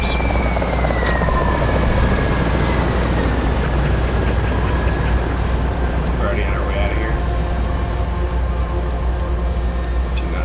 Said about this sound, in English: And here comes the helicopter.